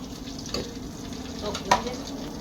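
Garlic fries in a pan on a wood stove, a soft low sizzle with a couple of brief stirring scrapes, fairly quiet and without talk.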